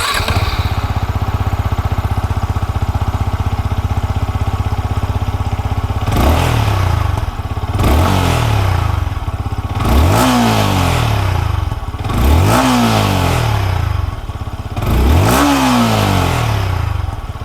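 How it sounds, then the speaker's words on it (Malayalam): A 2024 Yamaha MT-15 Version 2.0 150cc motorcycle revs its exhaust five times over a steady idle, each throttle blip climbing sharply and dropping back, loud and close with no talk. "എക്സോസ്റ്റ് സൗണ്ട് ഞാൻ കേൾപ്പിച്ച് തരാം."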